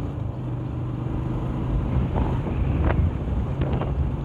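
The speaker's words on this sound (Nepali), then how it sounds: "फेरि हावा चल्छ।" Wind roars steadily across the microphone during a motorcycle ride, a constant loud rushing with faint engine hum beneath and no voices.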